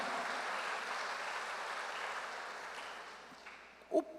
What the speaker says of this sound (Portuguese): E dá um aplauso para Jesus.